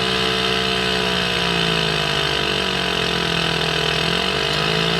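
An aircraft engine in an ATC-810 IFR flight simulator drones steadily, a continuous humming tone with faint wavering pitch and no voices over it.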